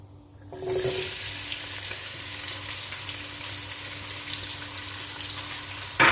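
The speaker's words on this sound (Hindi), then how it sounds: "प्याज को मैं सॉफ्ट होने तक फ्राई करूँगी।" Four medium onions, sliced, hit hot oil with a loud burst of sizzling after a brief quiet start, then settle into a steady crackling fry. A short clatter comes near the end.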